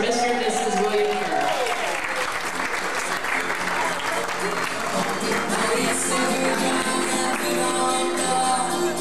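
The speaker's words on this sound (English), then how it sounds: "So how about another nice round of applause for Mr. and Mrs. William Kerr?" Sustained applause from wedding reception guests for the newlyweds, Bill and Susan, in 2002, steady and full throughout with some crowd voices and music mixed in.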